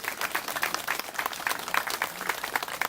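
Sustained audience applause for Korean War veterans at a Marine Corps memorial ceremony for the 68th anniversary of the Battle of Hill 104, a steady, full wash of many hands clapping throughout.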